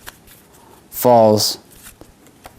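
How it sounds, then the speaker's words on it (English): Playing cards riffle-shuffled by hand during a card-control magic trick, a single quick fluttering burst of about half a second, close and crisp, between stretches of talk. "in essence of doing a riffle shuffle. I'll shuffle the cards"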